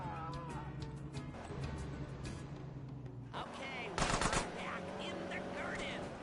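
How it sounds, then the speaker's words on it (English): Gunfire in GTA San Andreas, The Definitive Edition: a dense burst of shots around the middle, over continuous game music and engine noise, with a louder cluster near the end. "Why are you shooting me?"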